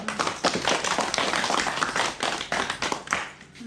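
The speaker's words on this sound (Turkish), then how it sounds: "Alkışlar" Guests at a family celebration clap in a lively, close burst of applause, sharp uneven hand claps piling up for a few seconds before thinning out.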